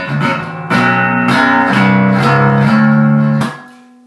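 A bright-sounding bass guitar played on its front pickup through a 4x10 cabinet rings out a short sequence of sustained notes and chords, loud and close, the last note fading out alone.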